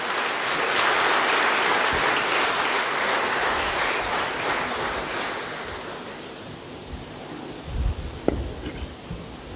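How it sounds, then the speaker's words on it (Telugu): Congregation applauding at a church deacon ordination, steady broad clapping for several seconds that gradually thins and fades, with a few scattered knocks and faint voices at the end. "సర్వేశ్వరు చప్పట్లు కొట్టవచ్చు అందరూ."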